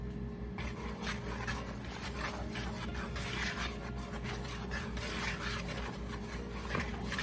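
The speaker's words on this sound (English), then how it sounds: "1/2 teaspoon of baking soda, 1/4 teaspoon of salt, and we're just gonna whisk this together." A whisk stirs baking soda, salt and flour together in a bowl, making a soft, continuous rapid scratching and rubbing that stays steady and fairly faint throughout.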